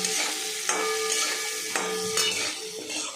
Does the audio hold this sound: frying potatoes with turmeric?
yes